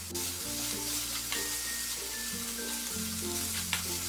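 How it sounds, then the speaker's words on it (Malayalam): Two tablespoons of tomato ketchup sauté in a pan for bread pockets, giving a steady, close sizzle with faint stirring scrapes and no talking. "ഇതിലേക്ക് 2 ടേബിൾ സ്പൂൺ ടൊമാറ്റോ കെച്ചപ്പ് ഇട്ട് വഴറ്റി കൊടുക്കാം"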